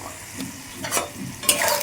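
Peanuts fry in hot oil, giving a close, steady sizzle with quick stirring scrapes and a couple of brighter clatters of the spoon against the pan.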